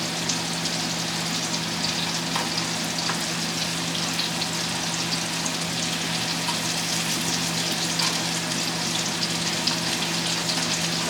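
Scallops pan-searing in a frying pan, browning on one side, with a steady, close sizzle and fine crackling spatter that continues evenly throughout without speech.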